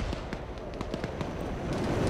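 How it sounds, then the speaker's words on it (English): Explosions rip through an MTLB armored vehicle after it is hit in a military shooter match, with repeated sharp bangs and crackling bursts over a dense, rumbling battlefield backdrop. "You're seeing explosions and the fuel flame out on it."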